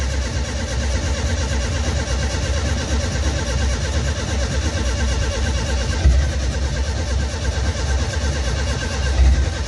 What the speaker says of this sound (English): let's see now if we actually start the car